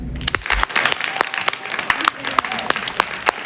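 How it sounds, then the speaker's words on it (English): An audience applauds with a dense patter of clapping hands, fairly close and steady throughout. "With a round of applause, you can answer it this way."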